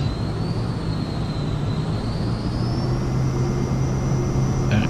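Cirrus Vision Jet single engine spooling at takeoff power in Microsoft Flight Simulator, a steady loud turbine roar with a deep rumble and a thin whine slowly rising in pitch.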